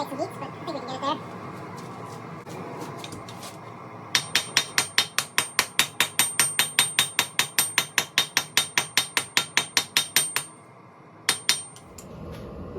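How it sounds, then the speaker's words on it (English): A hammer forges a hot-cut hardy tool on an anvil, striking in a fast, regular run of sharp ringing blows that pauses briefly and then resumes with a few last hits, with low background noise underneath. "I'm just trying out different faces of the anvil, different parts of the hammer"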